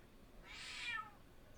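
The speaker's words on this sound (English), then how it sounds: "Meow, meow." A single cat meows once, a clear rising-then-falling call heard close and alone over quiet background.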